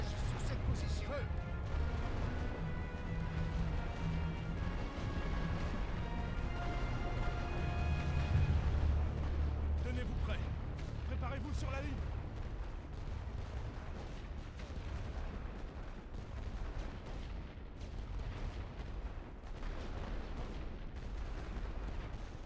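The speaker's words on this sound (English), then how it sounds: "Tir de barrage sur cette position." Artillery barrage in the First World War strategy game The Great War: Western Front, a continuous rumbling roar of distant shellfire with sharper blasts near the middle, under game voice lines and talk.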